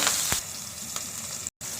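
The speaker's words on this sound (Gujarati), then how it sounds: "હિંગ એડ કરીને આપણે કાંદા એડ કરી દઈશું ઝીણા સમારેલા" Finely chopped onions and curry leaves sizzle in hot oil with mustard seeds, cumin and asafoetida, a close, steady hiss with a few sharper crackles and a brief drop to silence near the end.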